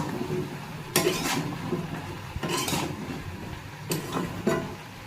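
Vegetables with salt and turmeric are stirred in a cooking pan, a utensil scraping and clattering against the metal in four or five short bursts over a soft background hum.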